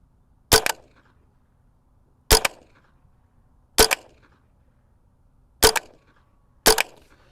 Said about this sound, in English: I'm shooting Blazer, 38 grain round nose, 5 shots.